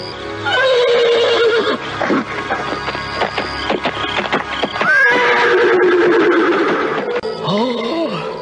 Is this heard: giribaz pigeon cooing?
no